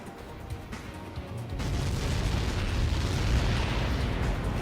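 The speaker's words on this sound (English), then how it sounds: "How many got caught in that explosion?" In the video game Ace Combat 7, a missile impact erupts into a loud, sustained rumbling blast that swells suddenly and keeps roaring as a dense wash of noise, with no voices over it.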